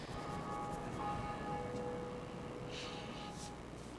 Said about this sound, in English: I like towers like that, with the ringing bell in there.